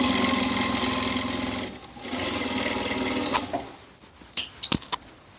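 A sewing machine stitches bias binding onto a knit blouse, running in a steady close whir, pausing briefly, then resuming before it stops, followed by a few sharp clicks.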